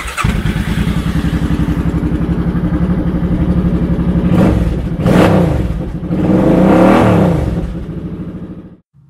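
2005 Suzuki C50 Boulevard 800 motorcycle with an 805cc V-twin engine, a steady loping idle that swells into two throttle revs before the engine cuts off, close and alone.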